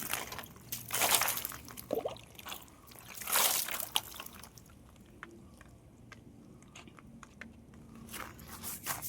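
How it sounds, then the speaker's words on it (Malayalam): Water splashes and trickles as a pair of sandals is rinsed and scrubbed with soap at home, with two louder sloshing pours near the start followed by quieter dribbling and wet scrubbing. "വെള്ളം ഒഴിച്ച് സോപ്പ് കളിച്ച് കുട്ടപ്പനാക്കി നമുക്ക് വെക്കാം"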